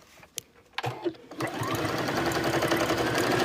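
A sewing machine stitches a bag seam, starting with a few sharp clicks and taps, then running into a steady, close, loud whir of needle strokes that continues to the end.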